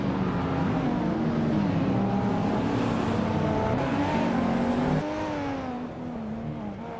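A 1992 Audi Quattro race car in a racing video game drives at speed, its engine droning and rising through gears with shifting pitch, loud and continuous, easing off near the end.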